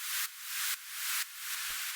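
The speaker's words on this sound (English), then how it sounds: "It's just some white noise going through a high pass filter," A techno drop effect built from high-passed white noise with echo: three bright, airy noise bursts in quick succession, each cut off sharply and trailing into fading echoes, with a brief low thump near the end.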